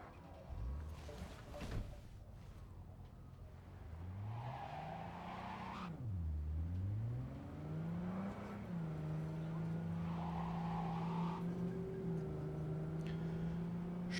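An old junk car drives through Cyberpunk 2077, its engine droning and rising and falling as it accelerates and brakes, with a brief tire squeal and steady motor hum throughout, moderately close.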